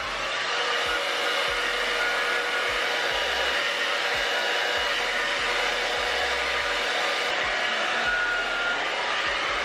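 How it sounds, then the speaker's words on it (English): A hair dryer on low-medium heat blows steadily and continuously, drying type 4c natural hair, a loud close whooshing hum with faint low thumps underneath, no talking. "I set my blow dryer on a low medium heat"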